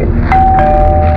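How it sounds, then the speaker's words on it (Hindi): A doorbell rings once, a clear sustained electronic tone over a low background hum, with no talking. "डोरबेल बजी,"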